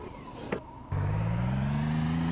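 A car in the video game The Feeble Files starts up after a short thump, then a steady engine drone rises slowly in pitch and holds loud and close to the end.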